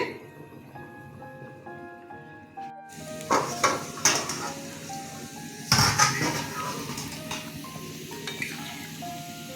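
A metal lid is set onto a pot of mango-cut chutney made with whole Madhu Kulkuli mangoes, giving a few sharp clanks and clatters, loud and near, after a stretch of soft background music.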